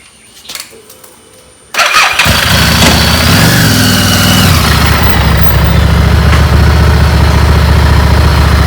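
A motorbike engine suddenly kicks in after a quiet, rustling start and then runs steadily and loudly up close, its low throb rising and settling as it revs, with no voices over it.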